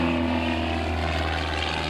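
A propeller airplane flies inverted at about 90 mph over an air show, its engine a steady loud drone with no break across the short stretch.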